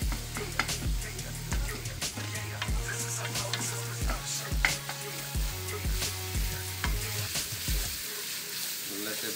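Seasoned ground meat frying and browning in a pan, with a steady sizzle and repeated scraping and tapping of a spatula against the pan, close and fairly loud.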